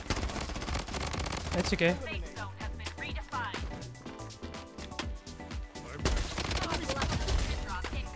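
Rapid automatic gunfire bursts rattle through a Bloodstrike match, with dense volleys of shots at the start and again near the end while players talk over the firing.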